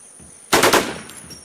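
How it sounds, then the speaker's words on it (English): Automatic gunfire from The War Z, a burst of rapid rifle shots lasting under half a second, loud and close, with faint game ambience around it. "I have to shoot this guy."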